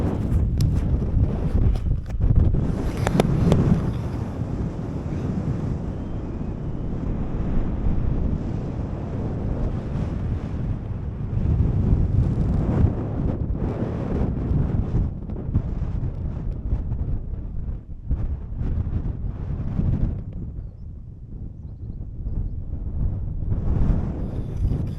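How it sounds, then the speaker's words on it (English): Strong wind gusts across an exposed mountain ridge in Snowdonia, Wales, roaring and buffeting the microphone close up, rising and easing in waves with no talk. "the wind has picked up"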